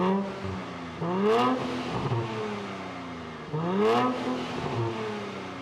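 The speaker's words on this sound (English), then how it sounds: "Nismo-specific tuned exhausts." A 2024 Nissan Z Nismo engine revs hard twice through its Nismo-tuned exhaust, a rising throaty exhaust roar each time, settling into a steady idle rumble in between.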